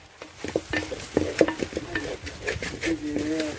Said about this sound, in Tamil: இந்த வெங்காயத்தை வதக்க போறோம்